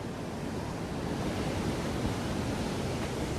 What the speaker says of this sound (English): Just look at the power of these waves that are coming in this morning though.